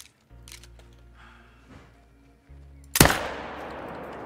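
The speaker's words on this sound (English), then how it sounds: "I'm just gonna shoot him" A single sharp rifle shot at a fallow deer on the Emerald Coast, Australia, in a hunting video game, loud and close with a decaying echo, after a quiet ambient hum.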